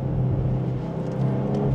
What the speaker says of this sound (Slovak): ale aj tento klasický výfuk má veľmi dobrý zvuk